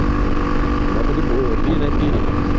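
Honda XR200R motorcycle engine running close by with a steady, loud throttle drone, while someone talks over it.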